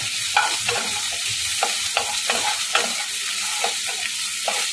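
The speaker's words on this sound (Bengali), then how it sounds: "একটুখানি নেড়ে নেব পেঁয়াজটা" Chopped onion and green chilies frying in a pan are stirred with a utensil, giving repeated scraping strokes about every half second over a steady close sizzle, with no talk.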